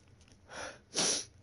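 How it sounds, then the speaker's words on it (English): One sharp, close sneeze: a short indrawn breath followed by a loud burst, alone and over in under a second. "I just had a really sneeze"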